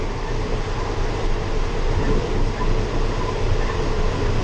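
A train rumbles along near Nakhon Sawan station, Thailand, as it begins slowing, with a steady low roar and rattling, loud and continuous, without clear change in pace.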